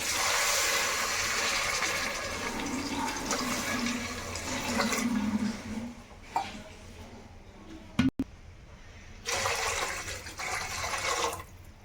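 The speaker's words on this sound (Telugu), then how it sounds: "సో ఇప్పుడు నేను ఇందులో 2 గ్లాసులు యాడ్ చేస్తున్నా వాటర్" Water pours steadily in a rushing stream into a pot for several seconds, then stops, followed by a few brief knocks and another short splash.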